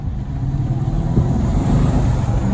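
Steady low engine rumble from a Bentley Arnage T with a 6.75-litre twin-turbo V8 and rear-wheel drive, cruising on the road, heard from inside the car, continuous and fairly loud with no talking.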